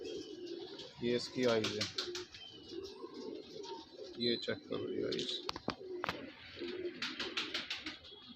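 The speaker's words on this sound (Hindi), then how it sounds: "कबूतर आ रखे हैं A1 क्वालिटी के" Domestic pigeons of Punjabi Malwai breed, including red-tailed birds, coo softly at a Delhi pigeon sale while someone speaks close by and points out the birds' eyes.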